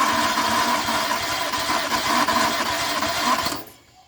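A weak-running Renault Clio 1.0 16v engine cranks on the starter during a compression test, giving a steady, close mechanical whirring churn that cuts off abruptly near the end, with no talking.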